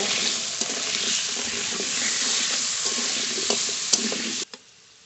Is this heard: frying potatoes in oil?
yes